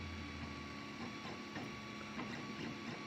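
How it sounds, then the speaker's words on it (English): A Geeetech i3 3D printer runs at moderate speed, giving a steady, fairly quiet mechanical whir with a constant tonal hum and small stepper-motor shifts in pitch, with no talk over it. "This speed is satisfactory. Printer is not too loud."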